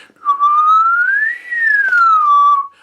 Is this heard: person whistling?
yes